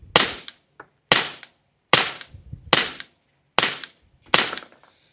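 Six suppressed shots from a CZ P-09 pistol fitted with a Dead Air Wolverine suppressor, each a sharp muffled crack with a short tail, fired at a steady pace of roughly one per second, close by.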